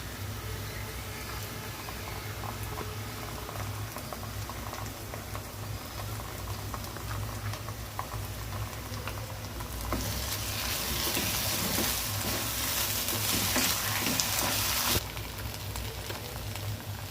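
Blended mustard and garlic paste frying in a pan for a hilsa fish dish, a close, continuous sizzle and bubbling crackle that grows brighter and louder midway before easing back.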